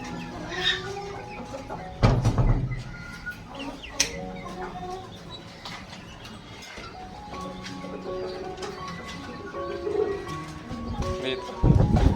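Backyard chickens cluck and call in scattered bursts, close and fairly loud, with other fowl sounds around them throughout.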